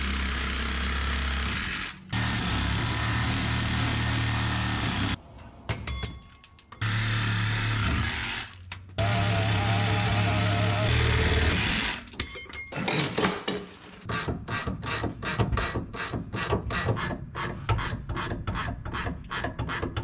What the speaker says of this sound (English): We're gonna use the old Sawzall for expedited removal.